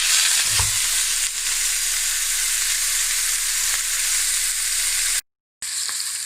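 A salted and peppered T-bone steak sears in a hot cast iron pan, giving a loud, steady broadband sizzle that runs almost unbroken, with one brief dropout near the end.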